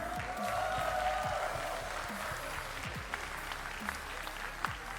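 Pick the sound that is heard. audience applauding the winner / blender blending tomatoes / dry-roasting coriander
audience applauding the winner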